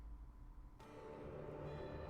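A train rolls along in the video game Alice: Madness Returns, a steady low rumble that swells after a sudden onset and runs on without pause.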